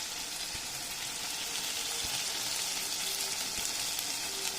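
Mutton curry masala frying in oil in a home kitchen, a steady dense sizzle and crackle held close and even throughout, with a few soft knocks of stirring and no talking.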